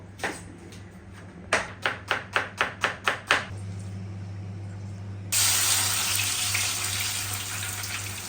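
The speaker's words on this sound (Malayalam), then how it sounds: "ആദ്യം നമ്മൾ ഉള്ളി കട്ടി വെച്ച് തുടങ്ങണമോ." A knife chops onions for chicken dum biryani in a kitchen, about ten quick close cuts in a short burst, followed by a louder steady hiss like frying or running water.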